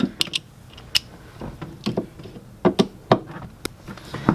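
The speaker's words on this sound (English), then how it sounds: "so we're gonna remove that using our" A T20 Torx driver removes speaker screws inside a 1994–2004 Ford Mustang convertible, producing close, irregular ratcheting clicks and small metallic ticks spread through the clip.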